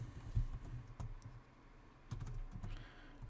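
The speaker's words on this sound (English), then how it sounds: "we'll type in some email content" Keys clatter on a computer keyboard as email content is typed, with soft, quiet, irregular taps and short pauses between bursts.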